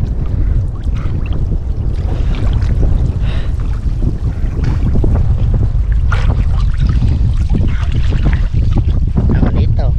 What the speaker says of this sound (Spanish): Ya había pasado una ráfaga de viento y viene otra